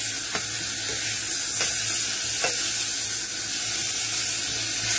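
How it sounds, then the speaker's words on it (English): Floured lamb's liver frying in a pan with little oil, making a loud, even sizzle that holds steady without a break, with faint spitting pops scattered through it. "when you put in the liver into the pan now with the flour on it, there isn't much oil in that pan"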